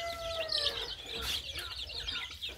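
Arab chickens clucking close by in a backyard coop, a busy run of overlapping clucks and short calls with steady farmyard background noise.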